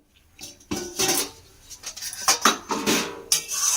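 Metal lid set onto a pot of boiling masoor lentils, a few close clanks and rattles of metal on metal as it settles, followed by soft scraping.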